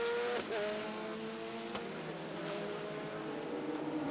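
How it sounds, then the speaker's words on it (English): Super GT race cars at Sepang circuit during a 300 km race, engines droning and shifting pitch as cars pass with a brief tire squeal, heard at a distance without commentary over it. "a great battle going on"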